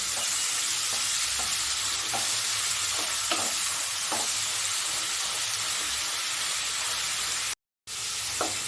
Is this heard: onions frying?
yes